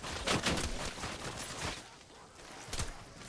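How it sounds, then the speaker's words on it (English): Maelstrom, a fully automatic drum-fed shotgun, fires in a Call of Duty zombies match as a rapid run of blasts, then a pause and one more burst. "It's the fully auto fucking shotgun with the drum mag."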